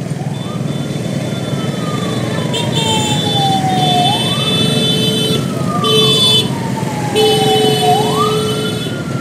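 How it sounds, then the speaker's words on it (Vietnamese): An ambulance siren wails in repeated slow rising and falling sweeps through a rainy street in Saigon at night, loud and close over a steady hiss of rain and traffic, with short beeping tones layered in between. "Có xe cứu thương."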